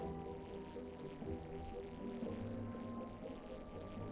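Water pouring into a water tank in the video game The Brew Barons, a steady, low gurgling flow with a droning tonal hum beneath it, continuous and moderately quiet throughout.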